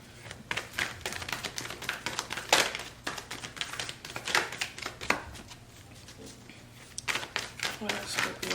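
Tarot cards are shuffled in rapid bursts of crisp riffling and tapping, close to the microphone, continuing steadily with brief pauses.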